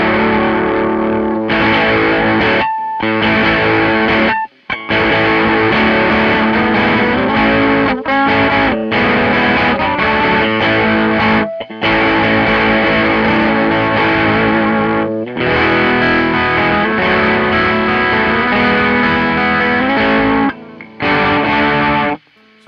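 Heavily distorted electric guitar through the Deplike app's chorus effect, with a shimmering chorus, loud chords and riffs played in bursts with short silent gaps between phrases.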